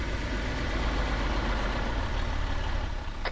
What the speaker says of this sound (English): Hey Vi, turn your engine off so we can hear ourselves think, yeah?